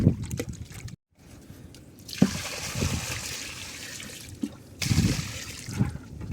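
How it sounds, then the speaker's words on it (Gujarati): Water from a bucket poured onto coconut saplings in a farm field: bursts of splashing and trickling liquid separated by brief pauses, close by, with no talk. "આપણે અહીંયાથી ડોલ ભાઈ ભરી લેશું, અને નારિયેળના રોપામાં પાણી નાખી દઈશું"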